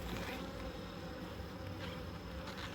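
Honey bees buzz steadily around a hive in a dense, continuous drone, close and loud, with no voices and no pauses.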